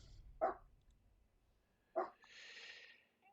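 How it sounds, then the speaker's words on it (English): A dog barks twice indoors, faint and somewhat distant, the short barks spaced about a second and a half apart, followed by a soft hiss. "my dog is keeping up with his tradition of barking anytime I'm recording"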